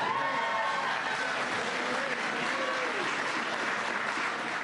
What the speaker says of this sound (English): give Tim a big round of applause